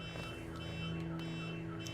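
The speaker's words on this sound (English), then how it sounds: "An alarm going off on the outside." A car alarm sounds outside, a steady droning tone that holds unbroken for the whole stretch at moderate volume, heard from some distance with no voices.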